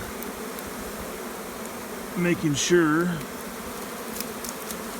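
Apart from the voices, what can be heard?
large swarm of bees in flight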